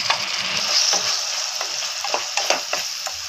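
Tomato pieces dropped into ginger garlic paste already frying in a pan give a steady broad sizzle. Scattered stirring ticks and small crackles sit on top, with no talking.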